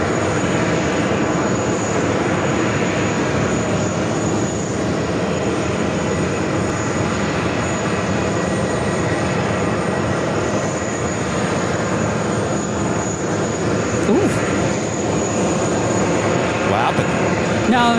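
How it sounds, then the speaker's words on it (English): Airplane landing at JFK, heard as steady, loud jet engine roar and broadband rushing noise filling the whole stretch, with faint voices mixed in underneath. "The tires hit the runway."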